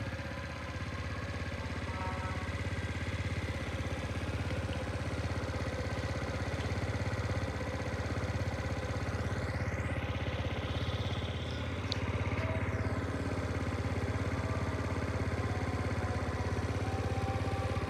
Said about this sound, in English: It has stopped the misfiring and also is idling fine.